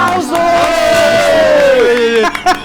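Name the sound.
audience applause and cheering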